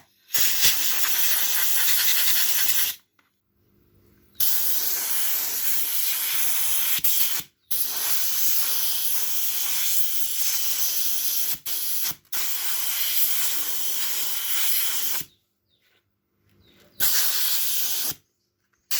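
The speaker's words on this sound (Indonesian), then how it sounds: "Kita semprot dengan kompresor ya teman-teman, biar bersih" An air compressor nozzle blows parts of a Honda Vario 150 scooter clean in loud, harsh hissing bursts of a few seconds each, separated by short pauses, close up with no talk.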